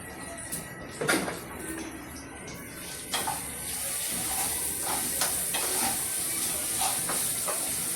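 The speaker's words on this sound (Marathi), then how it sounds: "जरा बटाटा भाजतो खरपूस." Potato pieces fry until crisp in a pan for sabudana khichdi, with a steady hiss and sizzle that grows louder and more even partway through, broken by a few scattered clinks and handling sounds.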